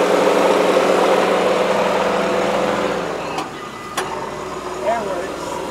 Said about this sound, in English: The AC compressor's a little noisy. It runs nice and smooth.